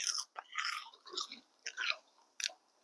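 Homemade mushroom rice crackers crunch sharply between the teeth in several close, loud bites and chewing bursts separated by short pauses, with no talking.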